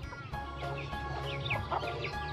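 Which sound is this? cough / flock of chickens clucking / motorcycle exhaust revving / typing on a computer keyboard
flock of chickens clucking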